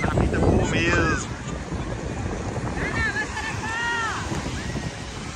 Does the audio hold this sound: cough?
no